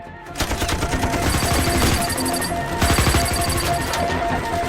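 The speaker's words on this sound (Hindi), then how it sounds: "हम तो फायरिंग कर रहे हैं सर" Loud, dense automatic gunfire from a Hindi action-thriller shootout, with rapid machine-gun bursts and overlapping shots running almost continuously, close and intense, with brief voices beneath the barrage.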